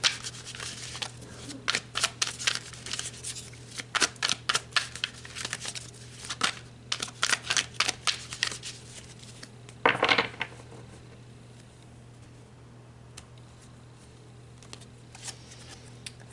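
Tarot cards are shuffled close up in quick bursts of crisp, rapid flutter and clicks. The bursts stop after about ten seconds and only a few faint taps follow in a quieter room tone.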